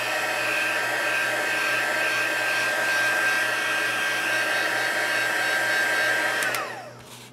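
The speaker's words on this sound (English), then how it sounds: "I'm going to turn the heat on and heat it just briefly from the back" A heat gun blows steadily and loudly on embossed cardstock, heating it briefly from the back; the whir holds constant for several seconds, then winds down as it is switched off near the end.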